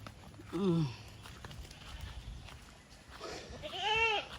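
Two goat bleats on a goat farm, one short and one longer and wavering, fairly close over outdoor background noise and faint hoof-like clatter.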